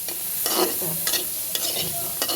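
Onion slices lightly frying in a pan while being stirred, a steady close sizzle with scraping strokes of the spoon against the pan.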